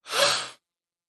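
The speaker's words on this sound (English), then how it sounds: "So we're going to do 30 breaths like that." One deep, airy breath, soft and close, swelling briefly and then fading to silence.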